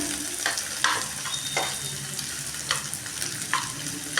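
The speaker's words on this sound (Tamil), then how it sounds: "நான் இன்றைக்கி ஆயில் ஊற்றி வதக்கி தான் எடுத்துக்க போகிறேன்" Onions sautéing in oil in a pan for a Spanish omelette, a steady close sizzle with periodic clinks and scrapes of a spatula stirring, no voices.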